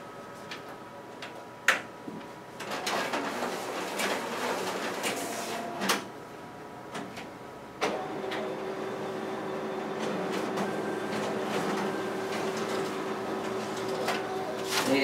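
A Xerox WorkCentre 7556 copier's document feeder pulls two originals through, with sharp clicks and thumps followed by a steady mechanical whir and rolling feed noise.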